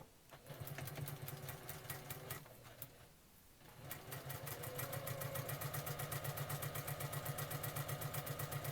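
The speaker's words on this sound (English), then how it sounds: "we are going to sew it together with a 1/4 inch seam again to make a longer strip" A sewing machine stitches a fabric strip with a quarter-inch seam, running in a fast steady mechanical patter that pauses briefly near the middle, then resumes at an even quicker, very regular rhythm, with no talk.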